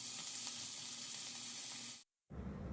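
Meat sizzles steadily in olive oil in a hot pan with a loud, continuous frying hiss that cuts out abruptly for a moment before resuming.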